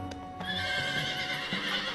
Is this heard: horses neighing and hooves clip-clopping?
yes